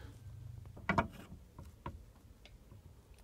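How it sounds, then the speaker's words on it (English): Wrenches working on a washing machine water valve, giving a few close metallic clicks and scrapes with one sharper clank, quiet overall. "now we use the wrenches again"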